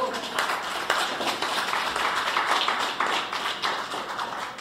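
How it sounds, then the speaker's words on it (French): Applause from an audience at a live poetry evening in a café, a dense, steady patter of many hands clapping close by that carries evenly for several seconds with no talk over it. "une bonne main d'applaudissement"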